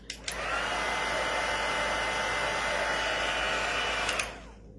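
A heat tool blows a steady, loud whoosh while melting embossing powder on a card, running continuously for about four seconds with soft clicks as it starts and stops.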